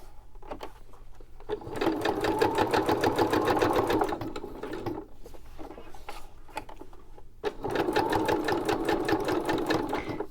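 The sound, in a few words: sewing machine sewing tags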